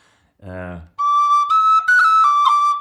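A brief low buzzy tone, then an Irish tin whistle holding a note with a few clumsy, uneven breaks and pitch blips from a badly played cut.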